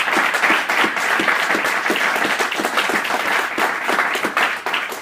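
A church congregation applauds throughout a sermon, dense sustained clapping from many hands with no voices heard.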